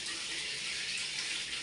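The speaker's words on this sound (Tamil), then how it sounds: "சரி, இப்போ வந்து நாங்கள் தண்ணியை திறக்கலாம்." A household water tap is opened during a water heater installation, letting a steady, close stream of slow-flowing water run without a break or any talking.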